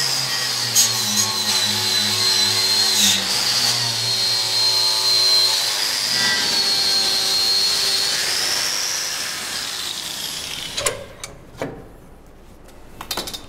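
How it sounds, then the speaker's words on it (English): A power tool grinds and scrapes the scale off a metal barrel being turned into a barbecue, a loud steady whine with shifting pitch for most of the stretch, then cutting out into a few scattered clanks and knocks. "I'm going to get on with the descaling."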